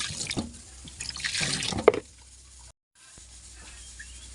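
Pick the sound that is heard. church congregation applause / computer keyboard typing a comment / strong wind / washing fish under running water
washing fish under running water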